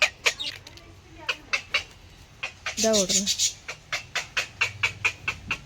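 Chicks and hens cluck and peep in a quick repeated rhythm, fairly faint and close, while a person speaks briefly partway through.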